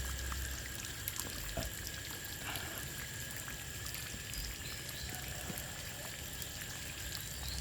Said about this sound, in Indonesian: Nah airnya tanahnya sudah tersiram ini.